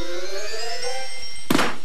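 A single sharp pop of a bursting balloon cuts through a held musical tone, short and loud near the end.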